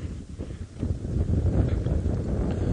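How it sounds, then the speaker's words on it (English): Strong wind buffets the microphone during an early-morning safari drive, a low, continuous rumbling roar that swells and stays steady for a few seconds, with no talk. "It's still very windy."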